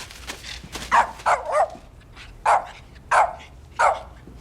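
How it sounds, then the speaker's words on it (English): A dog barks in short separate bursts, about six loud barks spaced irregularly over a few seconds, heard close and alone with no talking. "Dog."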